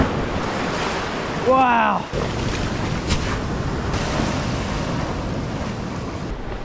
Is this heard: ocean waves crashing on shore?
yes